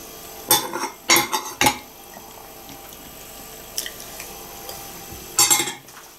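A metal spoon clinks against a dish during a meal, with a quick run of three sharp clinks, a faint tap, then another clink cluster a few seconds later, close and otherwise quiet.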